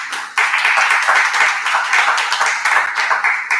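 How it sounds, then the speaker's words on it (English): Conference audience giving a round of applause for volunteers, a dense continuous wash of clapping from a crowd at moderate distance. "So a big round of applause for all of our volunteers."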